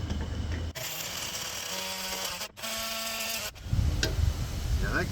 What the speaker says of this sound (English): this carbide tip saw blade on there will certainly remove paint